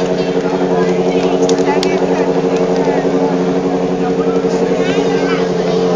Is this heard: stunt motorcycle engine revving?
yes